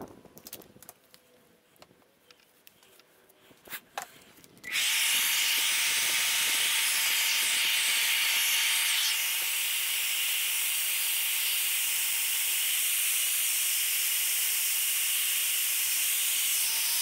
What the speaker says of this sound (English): Really just heating this material up here with the hair dryer